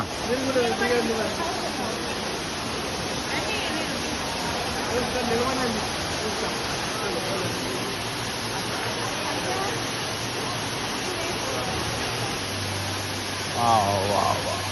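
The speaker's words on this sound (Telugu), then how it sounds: "what a beautiful water fall" An artificial waterfall in Singapore gives a steady, broadband rush of falling water that runs the whole time, with people talking faintly and a low hum coming in near the end.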